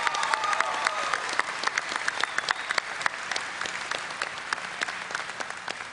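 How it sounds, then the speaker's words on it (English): A big convention audience at BlizzCon applauds a cinematic director during a panel, steady dense clapping at moderate distance, sustained for several seconds without talk. "so big hand to Taryn for that one"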